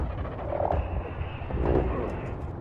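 A frog in the game ARK: Survival Evolved, croaking in low, throaty pulses twice over a steady rumble of game ambience.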